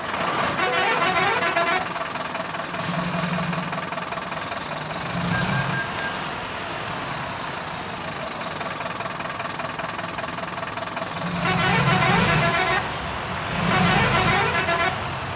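A bus engine in Euro Truck Simulator 2 rumbles and knocks steadily, starting and pulling away on a trip to Chennai, with the engine note rising at times as it drives along.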